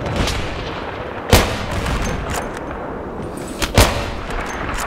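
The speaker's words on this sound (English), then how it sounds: "Is he shooting at me or is he shooting at the guy in front of him?" Gunfire in the shooter game Battlefield 3 on the Tehran Highway map, with a few sharp, booming single shots over a constant background rumble of battle, at moderate distance.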